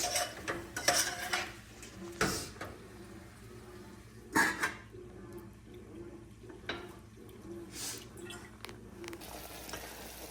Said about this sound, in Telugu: చపాతీ పిండి కలుపుదాము.